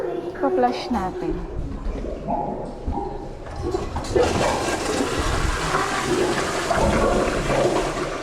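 A toilet at Universal Studios Japan flushes with a loud rushing gurgle that starts midway and continues steadily, after brief talking and a dog's bark.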